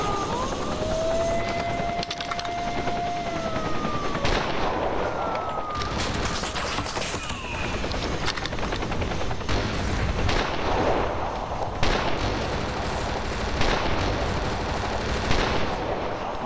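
Heavy gunfire in the shooter game Stalker Anomaly, a big gun firing in dense bursts over a continuous din of battle, with tonal whines and sweeping sounds layered through it.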